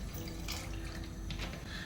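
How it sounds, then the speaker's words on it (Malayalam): Water is poured into a pot of sambar simmering with tomato and chopped okra, a steady close splashing and trickling across the short stretch with no talk. "കുറച്ച് വെള്ളം കൂടെ അങ്ങ് ഒഴിച്ച് കൊടുക്കാമേ"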